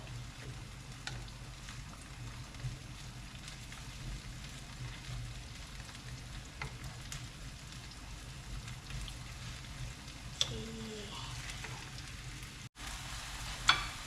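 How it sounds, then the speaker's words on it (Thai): Ingredients sizzle steadily as they are stir-fried in a pan before the noodles go in, in a Thai home kitchen. The frying hiss is soft and continuous, with a few light clinks and stirring scrapes and no talking. "จะผัดทุกอย่างแล้วก็ถึงจะเอาเส้นลงไปผัดทีหลัง"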